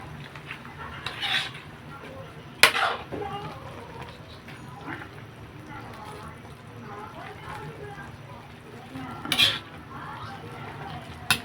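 Lomi noodle soup stirred in a pot, with soft liquid swishes and a few sharp clinks of a utensil against the metal rim, fairly quiet throughout.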